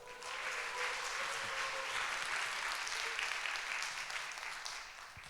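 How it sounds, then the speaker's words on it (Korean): A church youth-service congregation claps steadily to welcome a preacher to the pulpit, a moderate, continuous patter of many hands at a middle distance lasting several seconds without speech. "우리 따뜻한 환영의 박수로 맞아주시면 감사하겠습니다."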